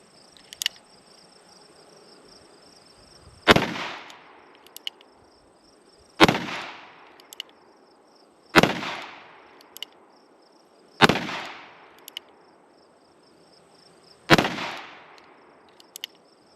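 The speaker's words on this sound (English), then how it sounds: "those last rounds we did in single shot were 357" Henry Big Boy revolver firing .357 rounds single shot outdoors, five loud sharp reports spaced a few seconds apart, each with a decaying echo, over a faint background of insects.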